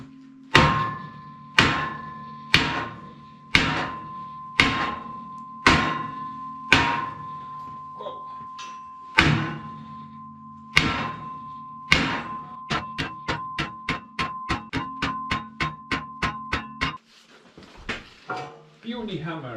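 A hammer striking a metal tractor part during maintenance, loud ringing clanks that start as evenly spaced single blows, then speed into a rapid run of lighter taps before a few scattered knocks, with someone talking at times.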